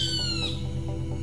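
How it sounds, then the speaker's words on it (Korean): Bird song in a forest setting, a clear high whistled call sliding down at the start, then fading, over a loud steady low hum. "새소리였습니다."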